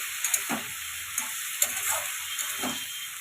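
Sweet potato and yardlong beans fry with curry leaves in a pan under a constant sizzle as a utensil stirs them, making a few soft scraping clunks up close, with no talking.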